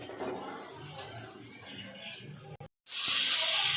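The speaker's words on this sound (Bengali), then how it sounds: "মাংসটা আমি দিয়ে দিচ্ছি।" Mutton tipped into browned onions in a pan for a Bengali-style potato and mutton curry, a close hissing sizzle with a brief cutoff, then a sharper, brighter sizzle surging back.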